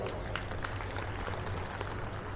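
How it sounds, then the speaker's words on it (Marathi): A crowd claps at an Ambedkar Jayanti speech gathering, a dense, continuous wash of applause at close range over a steady low hum throughout. "जोरात टाळ्या होऊ द्या"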